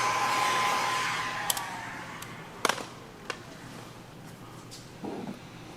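A heat gun warms a vinyl retro side panel graphic on a Bronco 4-bar. It gives a loud, airy blowing hiss that fades after the first second, then a softer steady rush broken by a few sharp taps and handling knocks.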